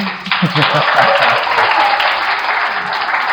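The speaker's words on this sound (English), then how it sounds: "a big round of applause to Team Victory" A pageant audience at a Miss Health Ghana 2023 event applauds a winning team, with steady, dense clapping and cheering filling the room while a voice talks over the start.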